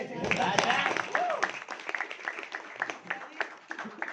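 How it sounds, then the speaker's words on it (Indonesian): An audience at a business seminar applauds, with a moderate round of clapping from many hands running under and around speaking voices for a few seconds. "Tepuk tangan dulu"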